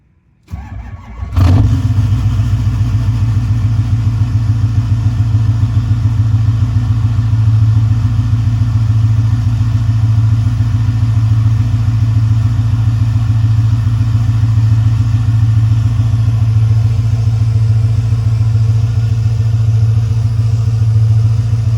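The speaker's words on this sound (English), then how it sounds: "It's been around 25 to 30 this past week, so I say this constitutes as a cold start." An old truck engine cold-starts after a week of sitting in 25 to 30 degree weather: a brief crank, then it catches and settles into a loud, steady, rumbling idle that runs on unchanged.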